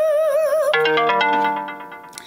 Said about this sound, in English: that's my phone popping up notifications because I just turned it on for the morning